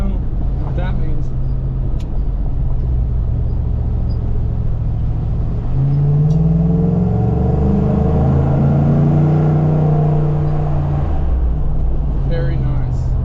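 Steady engine drone and road rumble from a 2011 Ford F-150 FX4 pickup towing a trailer loaded with two yards of rock, deepening and swelling as it passes through a tunnel, continuous and fairly loud throughout.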